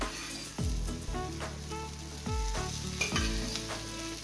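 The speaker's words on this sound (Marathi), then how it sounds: "आता गॅस एकदम लो फ्लेममध्ये ठेवून आम्ही ह्याला फ्राय करून घेऊया।" Fish fries in oil in a pan over a very low flame, a soft continuous sizzle broken by a few sharp spatula scrapes and pops, close and alone.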